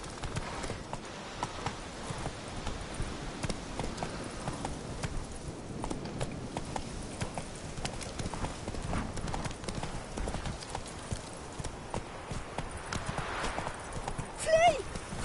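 Horse hooves clip-clop at a quick, steady pace in a PS4 game, with a faint whinny near the end. The rider's voice and game dialogue run over the hoofbeats throughout.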